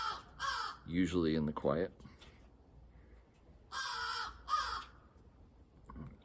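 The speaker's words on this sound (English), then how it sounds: "He wants to be on TV too. That silly raven." A raven caws in several harsh bursts, a cluster early and two more later, close and clear, with a person talking quietly between the calls.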